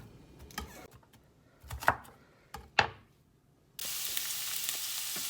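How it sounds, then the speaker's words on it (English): A knife taps on a board a few times while onions and garlic are chopped for red curry chicken, with irregular close strikes. Then a loud, steady sizzle of frying takes over. "now that you've chopped up your onions and your garlic"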